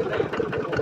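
A small farm engine on a three-wheeled ride-on tractor converted from a walk-behind tractor chugs at idle with a fast, even, knocking putter, close and fairly loud, without talk over it.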